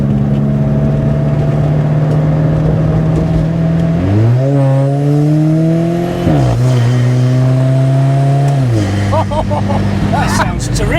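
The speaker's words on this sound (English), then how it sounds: "Little turbo whistle, little bark from the exhaust." An Alfa Romeo 4C Spider engine revs close by, its pitch rising and falling through several pulls with turbo whistle and exhaust bark, loud and sustained with faint talk underneath.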